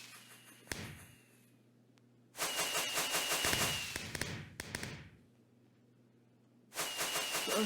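Loud bursts of crackling, whooshing explosions from a Minecraft firework rocket, two long blasts separated by quieter stretches with a steady low hum underneath.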